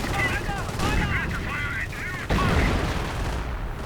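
Rapid bursts of gunfire ring out in a multiplayer war video game match, several sharp volleys and a machine-gun-like rattle in quick succession, one louder report near the middle.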